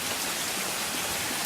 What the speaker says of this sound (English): It's been raining so much the last week or so